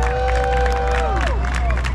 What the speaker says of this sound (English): let me hear you clap your hands and make some noise